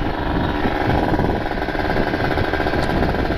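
Kawasaki Ninja RR two-stroke motorcycle fitted with an ABRT exhaust, galvanized 40.5 chamber and 26 stinger with ported engine, riding along a road: steady rapid buzzing engine note, close and continuous with wind.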